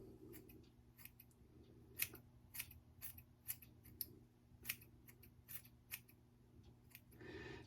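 Scissors point cutting hair in a home haircut, a close, quiet run of crisp snips coming in irregular quick bursts over a low steady hum.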